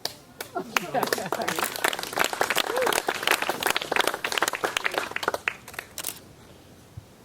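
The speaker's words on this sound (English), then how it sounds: "I didn't expect the applause there" Wedding guests break into applause during a reception speech, a dense burst of clapping that rises and trails off, with some talking mixed in near the end.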